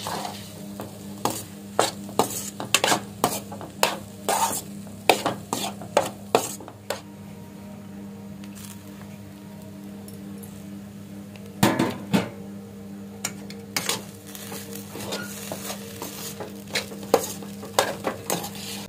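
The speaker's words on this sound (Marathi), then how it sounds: "आणि आता करायचं व्यवस्थित मिक्स, परतवून घ्यायची व्यवस्थित." Potato filling for batata vada is stirred and sautéed in a pan, with clustered clanks of a spoon against metal over a soft sizzle, a quieter stretch in the middle, then more bursts of scraping and tapping.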